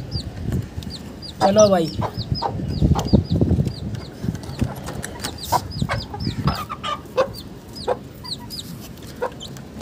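A hen and her chick cluck and peep repeatedly while rice is scattered for them, with chirps spread through the scene, some wing movement and someone speaking briefly over them.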